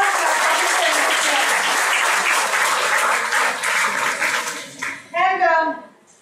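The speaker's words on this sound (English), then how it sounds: "A big round of applause." Loud, sustained audience applause in a lecture hall, broad and continuous, easing off near the end as a voice speaks over it.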